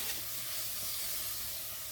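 Vegetables sizzle steadily in a gumbo pot as they are stirred, a continuous close, bright hiss with no talking.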